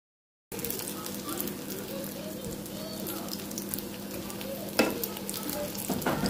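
Moroccan briouates frying in oil for an evening meal during Ramadan, giving a steady, fairly quiet crackling sizzle with a few louder pops and spatters, and no talking.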